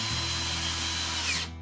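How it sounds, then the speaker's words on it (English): A power drill drives a screw into wood in one steady, close, loud whir lasting about a second and a half, then winds down abruptly. "I'm just going to put 2 screws in the front for"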